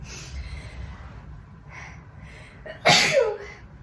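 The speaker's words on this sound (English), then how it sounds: "I had to sneeze." Quiet breathing builds into one loud, close sneeze near the end, a sudden burst that trails off quickly.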